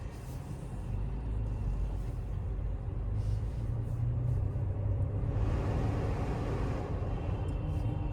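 Inside a moving 2023 Volkswagen Virtus, a steady low road and engine rumble fills the cabin, with an odd noise from the AC blended into the drone while driving.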